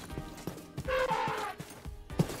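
Horse hooves clopping in Minecraft, several soft rhythmic thuds spaced about half a second apart, with a brighter tonal game sound swelling briefly in the middle.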